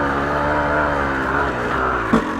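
A Yamaha YZ250 two-stroke dirt bike in second gear, engine held at a steady low-rpm drone as it pulls slowly off the bottom, close and continuous.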